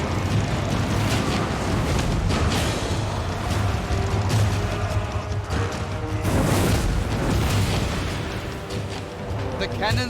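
Cannon explosions in the Total War Warhammer III battle game, heavy booms and bursts rolling continuously over a dense, loud battle din with a low steady rumble and music underneath.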